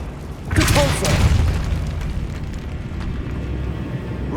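The Compulso spell being cast in Hogwarts Legacy, a deep booming magical burst that swells quickly and then fades into a lingering low rumble. A voice speaks briefly over the start of it.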